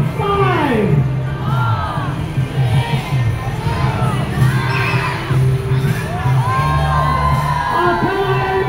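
A large crowd, many of them children, cheers, whoops and shouts loudly and continuously at an outdoor Christmas gathering on Orchard Road in Singapore, with rising and falling yells layered over a dense, close wall of voices.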